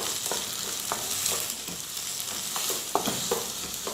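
Onions sautéing in hot oil with ginger and garlic for a Malabar fish curry, a steady close sizzle with scattered stirring clicks and scrapes throughout, no voices.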